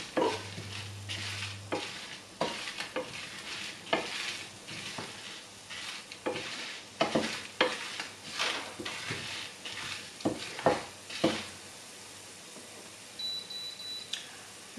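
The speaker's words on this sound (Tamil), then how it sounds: "லைட்டான சூட்டில் வறுக்கணும்" Whole spices for a Chettinad chicken kulambu dry-roast in a pan over low heat, with repeated scraping stirs and a soft crackle at a steady rhythm. A brief faint electronic tone sounds near the start, and nobody speaks.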